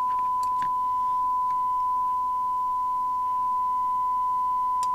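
A steady test tone from a signal generator plays through a York JCB861 CB27/81 FM CB radio receiver, one pure constant pitch lasting throughout, with a few faint clicks near the start and end.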